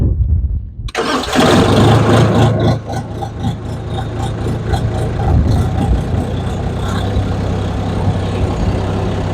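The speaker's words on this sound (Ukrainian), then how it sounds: "Е, тут заводимо ми." A Chinese-made tractor's diesel engine cranks and fires, then settles into a loud, steady idle with a low throbbing hum that carries on alone to the end.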